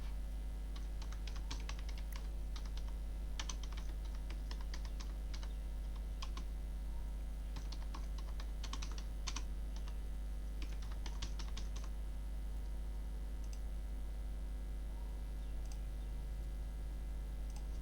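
Keys clack in short, uneven bursts as an address is typed on a computer keyboard, faint taps over a constant low electrical hum with pauses between runs of keystrokes; no talking.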